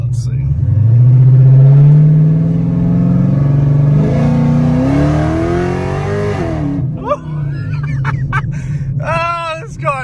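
A car gives a hard pull away from a stop sign. The engine note climbs loudly for several seconds, then eases off, with short squeaky chirps near the end.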